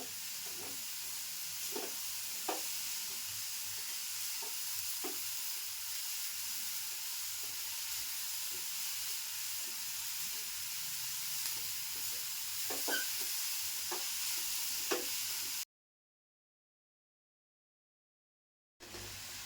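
Jaggery and grated fresh coconut roast together in a pan over a low gas flame, making a soft continuous sizzle with scattered stirring scrapes, then cutting to near silence at the end.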